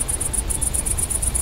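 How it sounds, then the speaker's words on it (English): Crickets in a horror video game keep up a steady, loud, evenly pulsed high chirping, alone with no voices. "like crickets over here or something."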